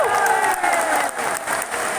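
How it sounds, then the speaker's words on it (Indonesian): Crowd applause and cheering at Anies Baswedan's large outdoor campaign rally in Bengkulu, a dense, steady wash of clapping with a faint voice or tone running beneath it for about two seconds. "Boleh tepuk tangan untuk beliau."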